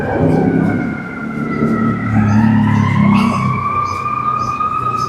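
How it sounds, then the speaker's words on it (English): Rising and falling sirens wail over rumbling Chicago city traffic, with a heavy engine droning underneath. "I just love those siren sounds."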